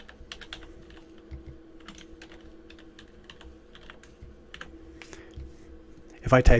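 Keys clatter in quick, uneven bursts on a computer keyboard, close and fairly soft, with a louder knock right at the end.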